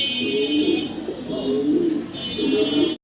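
Fancy pigeons for sale coo close by in soft repeated rolling phrases, with a faint steady high whine in the background.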